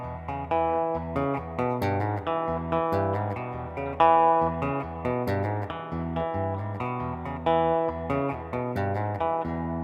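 Rhythm guitar played fingerstyle with thumb, index and middle fingers, working through the "Going Down The Road Feeling Bad" riff at a relaxed tempo, with a steady bass-and-chord pattern alone and close.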